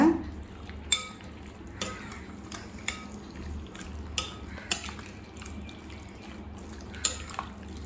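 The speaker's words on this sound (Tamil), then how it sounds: "இது எல்லாத்தையுமே நல்லா மிக்ஸ் பண்ணிக்கலாங்க." Chicken 65 pieces stirred through a marinade of yogurt, salt and food colour, giving repeated wet squelches and light taps on the bowl at an uneven, steady pace, with no one speaking.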